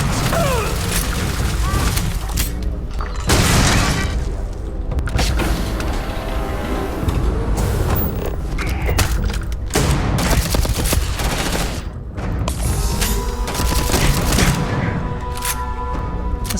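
Sustained gunfire in the video game Starfield: repeated loud shots and bursts over about sixteen seconds, mixed with mechanical clanks and creaks, with a dense rumbling combat bed throughout.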